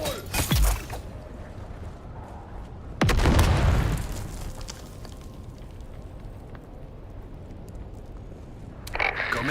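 A planted device explodes in a video game set on Arrakis: a heavy blast with a rumbling tail that fades over about a second, and smaller sharp bursts before and after it.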